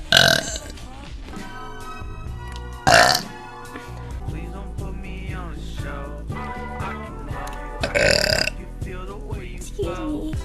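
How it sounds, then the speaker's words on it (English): Several loud, deep burps burst out at intervals over background music and a voice, each one sudden and brief. "I'm so sorry I keep burping"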